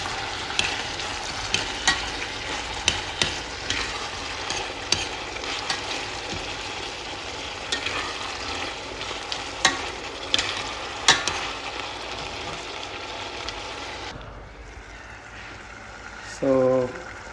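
Egg curry sizzles and fries steadily in a pan, with repeated sharp scrapes and clinks of a spoon stirring through it, before the sound drops away near the end to a quieter room where a short voice is heard.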